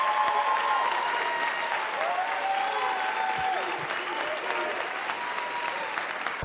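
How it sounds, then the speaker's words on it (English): A crowd breaks into sustained, loud applause for an astronaut, a dense clapping wash with faint voices underneath that holds steady throughout. "Great round of applause"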